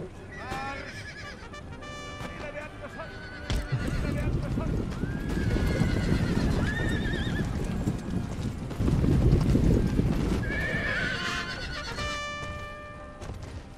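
Cavalry horses in an Empire: Total War battle neigh and whinny loudly again and again while hooves clip-clop steadily beneath them. A dense wash of battlefield noise surges throughout.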